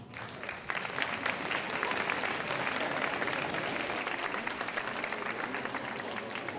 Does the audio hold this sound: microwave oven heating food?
no